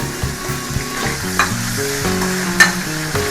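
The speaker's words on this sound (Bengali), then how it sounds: "একটু ভাজবো যতক্ষণ পর্যন্ত এটা ব্রাউন কালার না হচ্ছে" Sliced onions fry in a wok after fish for a rohu curry with potato and pointed gourd, a loud continuous sizzle close by with stirring scrapes and a few sharper clinks of a spatula.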